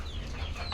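Chickens cluck softly close by while feeding, a brief murmur of fowl chatter over low background noise.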